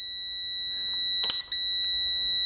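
A multimeter's continuity tester gives a steady, high-pitched electronic tone that holds throughout, broken by a brief click and a momentary dip near the middle, close and loud, with no one speaking.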